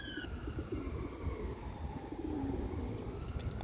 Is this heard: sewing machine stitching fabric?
no